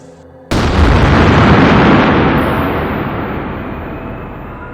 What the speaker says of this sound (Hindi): इतना बड़ा विस्फोट जो हमारी सोच से भी परे हो।